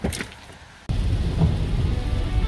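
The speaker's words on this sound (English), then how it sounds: "It's raining, so I'm getting in the car." Rain falls during a mountain drive near Blowing Rock. A lighter patter suddenly becomes a loud, dense, steady drumming close by, as if heard from inside a car.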